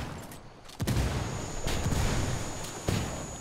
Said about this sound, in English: He's throwing a flashbang.